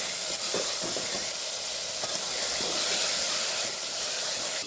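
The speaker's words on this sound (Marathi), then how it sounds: "मग मोड आले पावटी घालून घ्यायची मला आमच्याकडे वाळलेली वरणी म्हणतात त्याला हलक्या हाताने परतून घ्यायची" Sprouted dried field beans are gently stirred and sautéed in a pan, with a continuous close sizzle and soft scraping of the spoon running through, and no voices.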